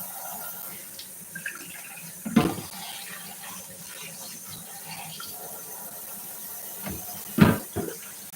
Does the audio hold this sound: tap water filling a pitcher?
yes